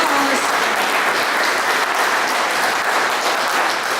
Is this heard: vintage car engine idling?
no